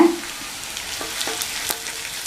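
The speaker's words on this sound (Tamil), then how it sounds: "இந்த வெங்காயம் லேசாக வதங்கட்டும்." Chopped onion softening in a hot pan for a quick tiffin dish, giving a steady close sizzle and crackle with a few light scraping stirs over a constant frying hiss.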